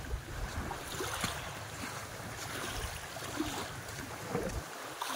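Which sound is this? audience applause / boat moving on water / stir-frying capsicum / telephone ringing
boat moving on water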